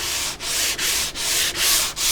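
Close, rhythmic strokes of 240 grit sandpaper on wood while refinishing a 1945 Columbus Model 90 radio cabinet, a steady hissing rub broken by brief pauses at each change of direction.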